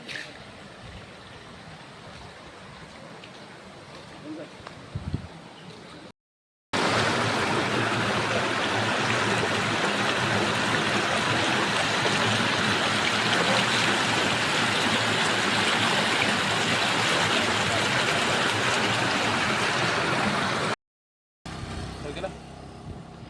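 A river flowing near the Gorakhnath temple, a loud, steady rushing roar of water that dominates the middle stretch, with quieter passages before and after.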